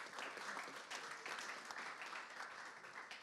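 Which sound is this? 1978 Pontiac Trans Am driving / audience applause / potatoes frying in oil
audience applause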